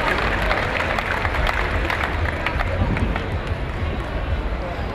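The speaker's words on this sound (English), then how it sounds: "Let's give them a big round of applause, ladies and gentlemen," Crowd applause and cheering at an outdoor woodchopping event ahead of an underhand handicap final, sustained and lively, with voices and babble mixed in.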